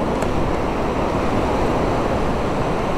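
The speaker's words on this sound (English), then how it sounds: "Whoa, that wind's well getting up." Strong wind blows across an open beach during sea fishing, making a steady, loud roar of rushing air and buffeting that holds constant throughout without speech.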